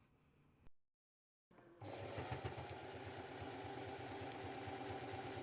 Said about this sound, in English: Then I stitched along the top edge with back stitches to secure it.